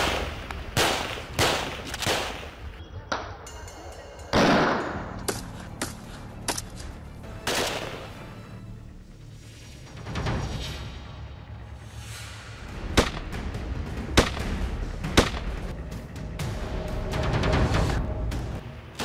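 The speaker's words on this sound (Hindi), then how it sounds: "कश्मीर बॉर्डर पर दनादन गोलियां बरस रही हैं।" Gunfire at the Kashmir border crackles in scattered sharp bursts, some rapid and clustered, others single cracks at varying distances, with quieter gaps between volleys.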